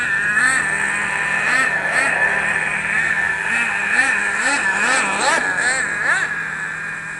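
A small gas-powered remote control racing car engine revs in repeated rising and falling whines, buzzing close and loud, with people talking over it.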